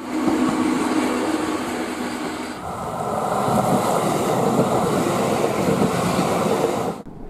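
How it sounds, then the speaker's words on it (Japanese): The Kintetsu Hinotori limited express runs past, heard as a loud continuous rumble and rushing roar that swells partway through and cuts off abruptly near the end. "その横を特急火の鳥が通過します。"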